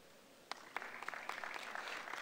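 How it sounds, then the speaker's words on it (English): Audience applause for Mr. Zhang Heilin at a Silk Road forum panel in Tbilisi, starting after a half-second of quiet with a few scattered claps that build into a soft, steady round, faint and distant. "I'd like to invite a round of applause for Mr. Zhang Heilin"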